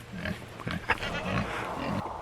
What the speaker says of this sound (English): Pigs, what are you doing?